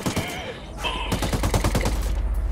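Rapid bursts of automatic gunfire in a military shooter video game, dense and continuous, repeated shots stacking with a steady rhythm and loud throughout.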